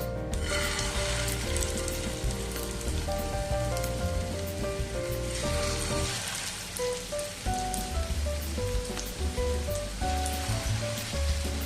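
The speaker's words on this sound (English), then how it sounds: "now we have to fry these kebabs till they are nice golden brown on one side first" Kebabs frying in hot oil in a pan, a steady, loud sizzle and crackle running throughout alongside a bright background tone pattern, with no talking.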